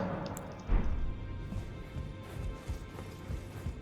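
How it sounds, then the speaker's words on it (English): Horse hooves clip-clopping in the Elden Ring video game, a faint, irregular series of soft hoof strikes with one louder thump, set against quiet ambient game sound. "I did find Radahn's very tiny horse very amusing"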